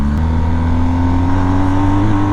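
A 2020 BMW R1250GS motorcycle engine pulling smoothly under throttle, a loud, steady drone with a slowly rising pitch, heard up close from the rider's position with wind rush and no talking.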